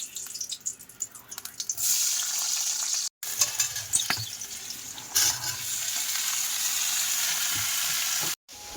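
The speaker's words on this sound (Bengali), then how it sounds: "দেখি আলুটা ভাজা করে নিই" Small cut potato pieces frying in a pan in a Sundarbans home kitchen, a close sizzle that starts after some handling clatter, with two short dropouts and no talking.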